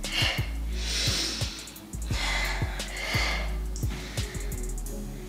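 Sharp rhythmic breaths, forceful exhales alternating with inhales, during an ab-strengthening floor exercise, repeating about once a second over a steady thumping music beat.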